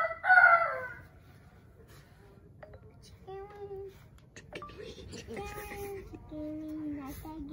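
A chicken crows in a video game, with a loud burst near the start and fainter tonal cries after it, under children talking throughout.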